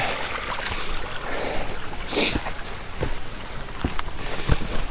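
A shallow creek in Kolob Canyons, Zion National Park, trickles and splashes close by as a steady watery hiss, broken by a few brief sharper splashes and knocks.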